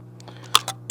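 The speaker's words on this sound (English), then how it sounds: "Cock the shutter, just check that again because it moved." The shutter of an Intrepid 4x5 large-format camera is cocked, giving a few quick small mechanical clicks within a second, close and crisp over a low steady hum.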